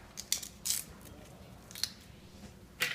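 A knife cutting open and splitting a fresh lemongrass stalk while making Asian lettuce cups, a few crisp fibrous snips and crunches spaced apart, close and fairly quiet.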